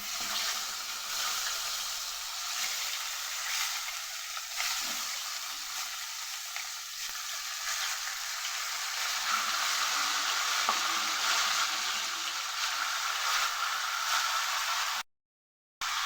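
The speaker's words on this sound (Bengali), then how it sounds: "চিকেনটাকে নুন এবং হলুদ দিয়ে ভালো করে ভেজে নেবে" Chicken pieces fry with salt and turmeric in the same wok, producing a continuous loud, close hiss and crackle that holds steady throughout with only a brief dropout near the end.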